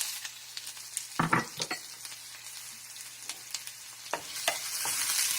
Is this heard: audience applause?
no